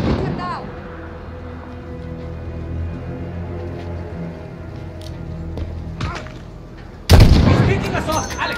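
Sniper gunfire in a Modern Warfare video game mission: a few sharp distant cracks under a low rumbling background, then one loud, close boom near the end.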